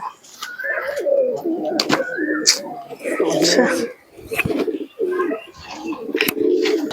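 Many young pigeons at a breeder's sale loft coo in a steady, overlapping chorus close by, while someone talks over them throughout.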